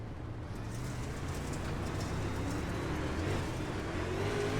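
Several race car engines idle and rumble together on the grid before the start of an iRacing UMP Modified dirt race, a steady loud drone with rising engine tones, no speech.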